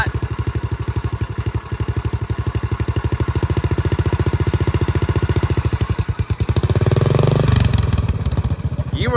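Vintage Honda XL250 dual-sport motorcycle engine idling with a steady single-cylinder thump, then blipped with a little throttle so the rhythm quickens and roughens before settling back, close by and loud.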